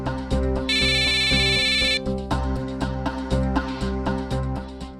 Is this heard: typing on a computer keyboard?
no